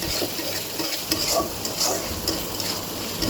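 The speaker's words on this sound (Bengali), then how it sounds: "অনেকক্ষণ ভাজার পর যখন তেলটা টেনে নিয়ে যাবে তখনই বুঝবেন ভাজা ভাজা হয়ে গিয়েছে।" Mashed chili frying in oil sizzles close up while a utensil stirs and scrapes the pan in a repeating rhythm, with no voices.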